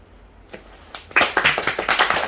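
A small group of people at a racing team review gathering clap briefly, starting with a couple of sparse claps and then a run of quick, fairly close handclaps.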